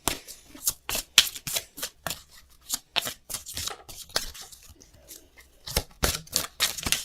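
Tarot cards being shuffled by hand, a run of crisp riffling bursts in a steady rhythm, close and clear, with no talking.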